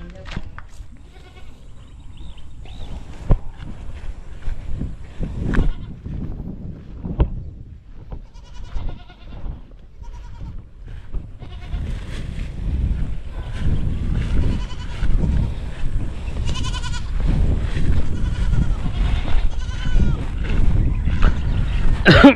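Goats bleat on a Filipino eggplant farm, with repeated calls rising over rustling outdoor noise and occasional nearby talk.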